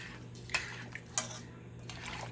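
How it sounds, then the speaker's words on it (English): Rice being stirred into a pot of asopao de pollo, with a few distinct scraping clinks of a spoon against the pot over a quiet background hum and no talking. "we're going to add our rice to that. And we're going to stir it."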